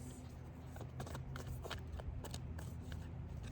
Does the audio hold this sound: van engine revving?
no